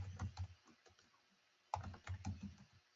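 Login credentials being typed on a computer keyboard, a run of close, quick key clicks in two bursts separated by a short pause.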